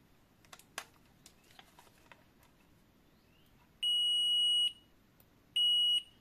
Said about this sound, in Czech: To je pípák, který právě když spojíte obvod,